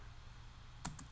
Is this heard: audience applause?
no